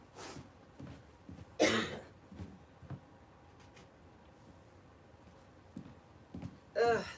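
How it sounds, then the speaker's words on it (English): A person coughs several times in short, harsh bursts close by, with quieter breathing and throat noises between the coughs in an indoor space while making a patriotic deco mesh wreath. "Ugh, this cough is horrible."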